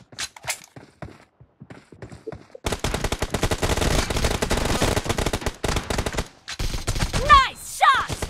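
Rapid automatic gunfire rattles in a BGMI team deathmatch in the warehouse, dense close bursts of shots after a few quieter sounds, with brief pauses and whooshing effects between volleys.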